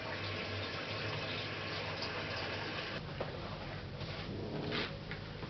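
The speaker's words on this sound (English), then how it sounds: "Wash my hands." Running tap water splashes steadily while hands are washed under it in a kitchen, a continuous close, hissing flow with a slight change in splash partway through.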